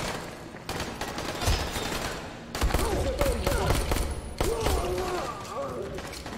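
Gunfire in the video game Dying Light comes as bursts of sharp shots, with a busy first burst and two longer stretches of shooting later, under quiet game sounds.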